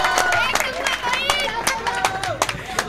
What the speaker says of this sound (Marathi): चला टाळ्या थांबल्या नाही पाहिजेत मित्रांनो, एकदा जोरदार टाळ्या झाल्या पाहिजेत रोहित साठी